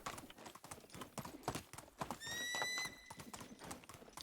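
Rhythmic hoofbeats clop steadily while a loud, sudden horse neigh rings out in the middle, standing clearly above the trotting, in the video game Medieval Dynasty.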